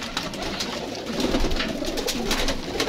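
Pigeons coo softly over a busy background hiss, low murmuring calls repeating close by with faint rustling.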